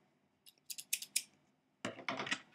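A pair of scissors handled at close range: a run of sharp metallic snips and clicks, then a louder rustling clatter, with no talk.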